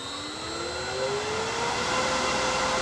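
A wood lathe spins a beech bowl blank at about 1100 RPM, giving off a steady motor hum and a faint whine that climbs slightly in pitch, with airy broadband noise and no talking.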